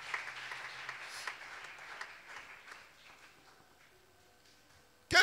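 A church congregation applauds the Lord during an Easter seminar: scattered clapping that slowly fades over background music, then a sudden loud burst of clapping at the very end.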